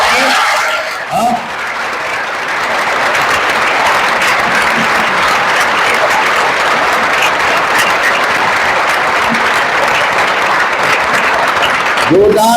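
Students clap loudly and steadily for over ten seconds in a full room, a dense continuous wash of applause with a few chuckles and voices mixed in near the start and end.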